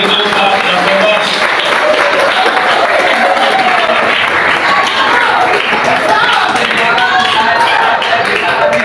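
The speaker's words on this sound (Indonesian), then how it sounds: "mari kita tepuk tangan untuk Pak Japontas" Sustained, loud applause from a crowd at an election meeting, clapping for a candidate, with a steady wash of hand claps filling the whole stretch and faint voices mixed in.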